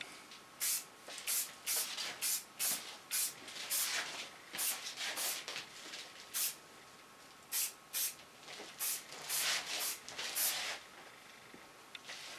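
Hairspray misted onto a short asymmetrical pixie cut, a string of short sharp hissing bursts with brief pauses between them, close and fairly quiet.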